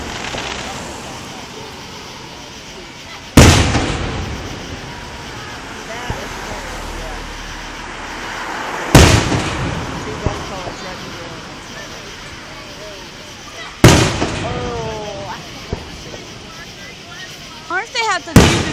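Fireworks explode in loud, sharp booms spaced several seconds apart, each followed by a crackling tail, with a quick run of smaller bangs near the end and people talking between blasts.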